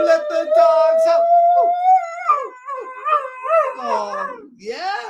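A pet dog howls and yips along with a person singing, sustained rising howls mixing with the singer's voice, then whimpering, warbling cries toward the end.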